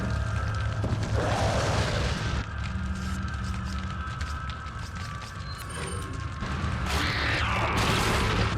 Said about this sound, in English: I'll say we dropped this incendiary on him now